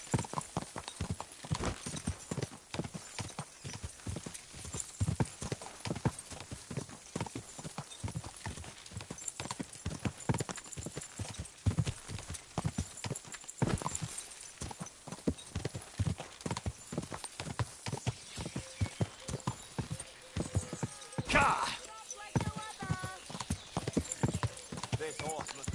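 Horse hooves clip-clop steadily throughout in a medieval video game, a brisk rhythmic gait with a brief whinny near the end, while voices talk over the hoofbeats.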